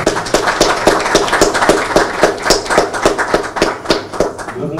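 An audience at a data visualisation event applauds the commercial team with brisk, closely spaced handclaps at fairly close range. The clapping is loud and steady throughout, with no talking over it.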